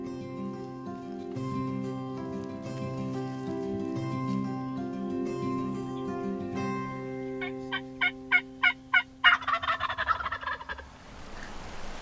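A wild turkey gobbles during a turkey hunt, a rapid rattling burst late in the clip that rises over steady background music, followed by fading noise.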